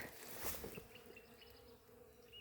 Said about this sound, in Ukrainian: Як тут гудуть бджілки.